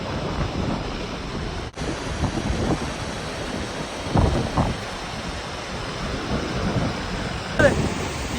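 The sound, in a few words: waterfall rushing in rain and wind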